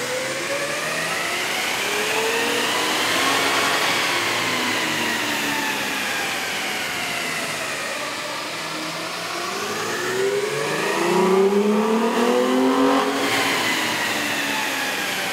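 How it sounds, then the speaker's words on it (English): A 2005-2011 Toyota Tacoma with a 4.0-liter engine and a K&N cold air intake revs on a dyno, its engine note climbing and falling in long sweeping pitch rises, loud and close with no voices. "we ran the vehicle on the dyno to test the sound comparison versus the stock intake"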